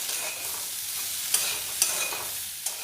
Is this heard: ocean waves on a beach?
no